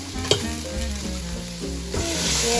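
A pot of food with garlic and bay leaf sizzles steadily while being stirred, with a sharp clank of the spoon near the start and a continuous frying hiss throughout, close and moderately loud.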